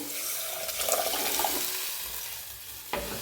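Turmeric and tomato sizzle as they are stirred in a hot pan, a steady frying hiss with a few scraping spoon movements and a sharp clack near the end.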